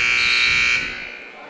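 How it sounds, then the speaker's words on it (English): A loud, steady electronic buzzer sounds at the end of the first quarter of a lacrosse game, holding for under a second before fading into arena noise, with a voice talking underneath. "That goes off into the crowd just as the buzzer sounds to end the first quarter."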